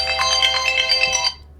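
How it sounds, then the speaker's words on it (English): Phone reminder alarm playing a bright, rapid electronic ringtone melody, loud and close for just over a second before it cuts off into quiet background. "That was my alarm to remind me."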